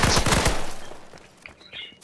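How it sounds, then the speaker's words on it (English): Rapid bursts of gunfire in the Fortnite video game, loud and dense at first and fading after about half a second, with a few sparse faint shots and game sounds trailing after. "they're shooting"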